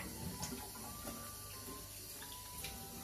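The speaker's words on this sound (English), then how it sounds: "So I just wash my face and rinse it off." Water running steadily from a sink tap while a face is rinsed, a soft, faint hissing wash with small splashes and no voices.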